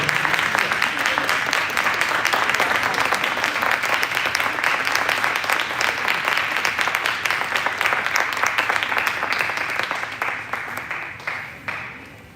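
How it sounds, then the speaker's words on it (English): Sustained applause from an audience after singers finish at the Purdue Navarasam 2025 Indian classical music and dance event, steady and dense for most of the stretch before thinning out and fading near the end. "we give a big round of applause to the singers"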